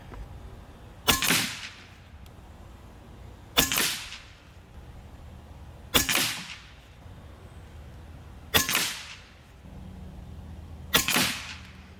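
A Benjamin Marauder Gen 3 air rifle firing a group, five sharp cracks each a couple of seconds apart, separated by quiet pauses.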